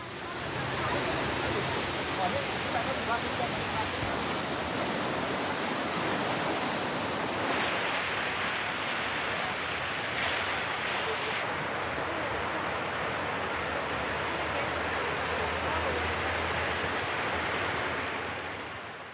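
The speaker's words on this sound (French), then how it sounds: "C'est l'occasion d'admirer de splendides chutes, dont certaines atteignent jusqu'à 80 mètres de haut." Waterfalls in Sichuan, China, some up to 80 metres high, send out a steady, loud roar of rushing water with no break.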